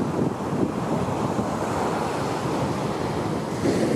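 Pacific Ocean surf rolls onto a beach at Los Cabos, a dense, continuous roar of breaking waves mixed with wind buffeting the microphone, loud and close throughout.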